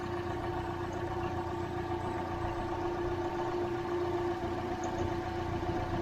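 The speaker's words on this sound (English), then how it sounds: "There goes the AC compressor," A 2021 Hyundai Elantra engine idles steadily with the air-conditioning system running, a quiet, even hum and low vibration that holds constant throughout.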